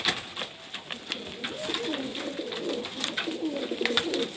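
Pigeons cooing in a loft, a steady low murmur of several birds with soft wing flutters and scattered higher chirps throughout, close and continuous.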